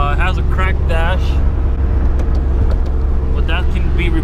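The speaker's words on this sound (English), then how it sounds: "It's running on 5 cylinders right now, so it sounds like a Subi." A misfiring car engine running on only five cylinders holds a steady, loud, uneven low rumble throughout, with someone talking over it at the start and near the end.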